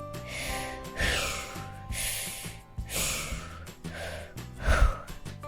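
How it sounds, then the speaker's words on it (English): Several deep breaths in and out, slow and audible, close to the microphone, each one a breathy rush followed by a pause, with no talking over them. "why don't we take some deep breaths, in and out"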